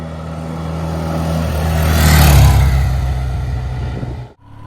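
A BMW R60/6 motorcycle engine runs steadily, its loud, smooth drone swelling as it revs to higher RPM midway, then easing back before cutting off abruptly near the end, with wind rush throughout.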